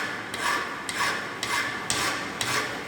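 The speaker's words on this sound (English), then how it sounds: "So you can see, as I am applying force, this file actually removing" Hand file cross filing a metal workpiece at a fitting bench: five steady rasping strokes in an even rhythm, close and fairly loud, with no voices.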